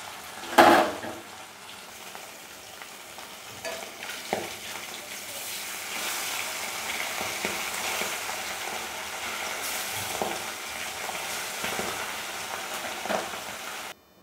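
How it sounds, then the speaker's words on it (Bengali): Soft, steady sizzling of hilsa fish frying lightly in oil, with a few clinks of a utensil against the pan. "আমার সবগুলো মাছ ভাজা হয়ে গেছে"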